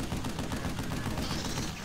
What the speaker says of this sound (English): I heard that gunfire sound before.